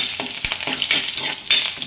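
Curry leaves hit hot coconut oil in a pan and crackle sharply, a loud, busy sizzle with quick pops and stirring scrapes over a short burst, no voices.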